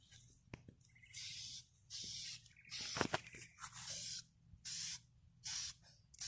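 Aerosol spray paint hissing onto a baitcasting reel as another coat goes on, in several separate bursts of about half a second each with quiet gaps between, close and fairly loud, with no talking.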